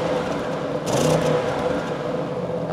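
Audi RS6 GT 4.0-litre V8 in dynamic mode blips its throttle once in a brief rev that swells and drops back to a steady idle hum, heard close and without talk.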